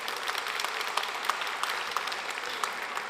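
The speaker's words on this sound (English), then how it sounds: "How about a quick round of applause, folks?" Audience applause at a web performance conference talk, a steady wash of many hands clapping at moderate distance, with a few sharper individual claps standing out, no voices.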